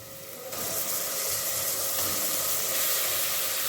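Ginger garlic paste sautés in hot oil with onions. After a quieter start, a broad hissing sizzle rises and then holds, steady and close.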